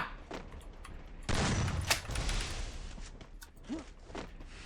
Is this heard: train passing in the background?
no